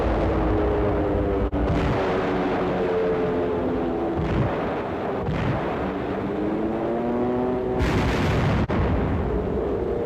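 Heavy explosions from dive bombers striking Japanese installations on Guam in World War II, a continuous loud roar with several sharp blasts and booming bursts in the distance, no voices.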